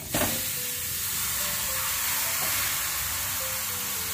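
One kilo of grated red carrots drops into hot desi ghee in a kadhai with a sharp opening burst, then settles into a steady, moderately loud sizzle and hiss with faint stirring.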